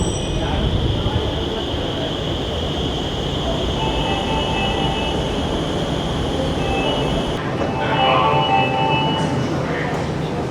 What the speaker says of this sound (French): Voilà le métro d'Agra.